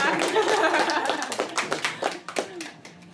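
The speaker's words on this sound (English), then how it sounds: "Let's give her another third round of applause in public." A podcast audience gives a guest another round of applause in public, clapping dense at first and thinning into scattered individual claps, with some talk and chuckles mixed in.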